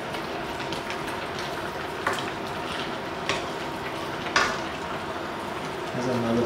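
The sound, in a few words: stirring sauce and red bean curd into oxtail and lamb stew meat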